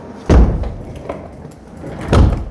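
Two solid thuds as a door fitted with a newly installed Schlage F40 handle is pushed shut, close and loud with a short pause between them.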